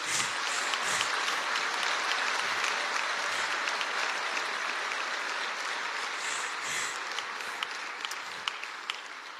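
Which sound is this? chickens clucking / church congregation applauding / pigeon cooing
church congregation applauding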